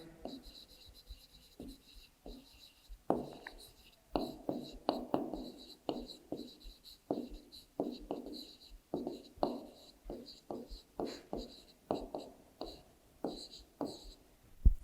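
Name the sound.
writing numbers by hand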